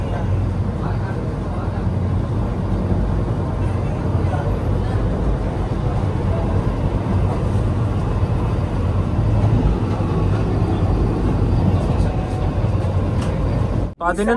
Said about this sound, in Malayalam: ട്രെയിൻ ഇപ്പോൾ 110 km/h സ്പീഡിലാണ് പോകുന്നത്.